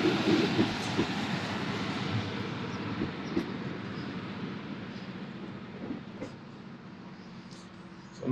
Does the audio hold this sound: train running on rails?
yes